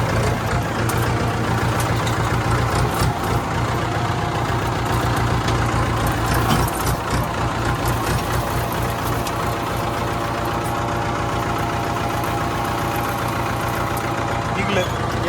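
A tractor engine runs steadily and loudly while pulling out an overgrown custard apple tree on a farm, a continuous low rumble that holds for the whole stretch without letting up.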